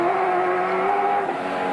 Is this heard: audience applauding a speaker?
no